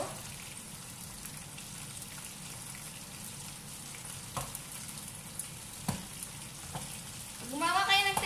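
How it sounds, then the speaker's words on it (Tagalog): Teriyaki chicken fries in a pan with a continuous soft sizzle and crackle, punctuated by a few sharp pops and stirring clatters, louder toward the end. "Teriyaki chicken, guys, is ipiprito muna ninyo."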